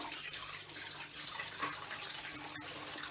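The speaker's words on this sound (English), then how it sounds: "just running the water, moving it around so it doesn't stick" Cold water runs from a kitchen tap over drained spaghetti pasta in a colander, a steady broadband splashing rush that continues unbroken and fairly loud throughout, with no voices.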